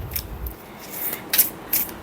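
Thin linen-finish tarot cards overhand shuffled by hand, a few soft papery riffles and slaps in short bursts, close with no talking.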